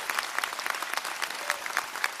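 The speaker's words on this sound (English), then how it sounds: "So let's give our chief a round of applause." An audience at a fire rescue graduation ceremony claps in a dense, steady round of applause for the fire chief, close and sustained for the whole moment.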